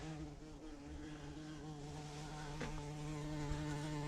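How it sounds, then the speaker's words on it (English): Small bumblebee buzzes close by in a steady, droning hum with a wavering pitch, hovering near a stripped-down Z28 Camaro in a quiet workspace, no talking. "A little bumblebee."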